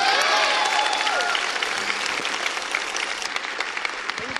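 An audience at an Independence Day celebration event in New Delhi claps steadily, starting with some cheering and whistles on top, then settling into continuous applause that tapers slightly toward the end.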